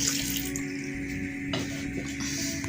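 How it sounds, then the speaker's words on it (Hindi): Two cups of water are poured into a pot of mutton curry with orchid tree buds, a steady splashing gush that runs close and continuous throughout with no speech. "ये हमने पानी इसमें 2 कप इसमें ऐड कर रहे हैं"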